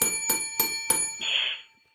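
A bell on the desk of a sports talk studio is struck four times in a quick, even rhythm, each strike ringing bright and close, followed by a brief hissy rattle as the ringing fades out.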